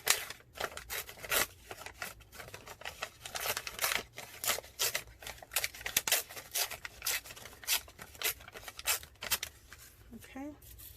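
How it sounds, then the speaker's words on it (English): Paper being torn by hand for a mixed-media junk journal page, a rapid series of close, crisp ripping and rustling bursts that repeat steadily throughout, with a voice talking now and then over them. "we'll rip the top."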